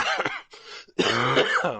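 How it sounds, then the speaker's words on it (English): A close, harsh cough with throat clearing, a couple of rough bursts followed by a longer raspy, voiced hack. "My bad about coughing here."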